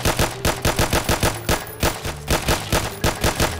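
Rapid automatic gunfire from a gun in a Minecraft and Doom video game mashup, about twenty evenly spaced loud shots in a steady burst.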